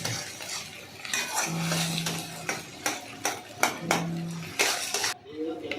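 Sola kochu being stirred and mixed in a pan, with repeated metal utensil scrapes and clinks over a soft sizzle, while a voice speaks underneath.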